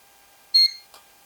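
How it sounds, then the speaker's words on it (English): A Vivitar Skyflow drone from 2025 gives a single short, high electronic beep at start-up when set to optical flow mode for indoor flight. A soft click follows in an otherwise quiet room. "One beep"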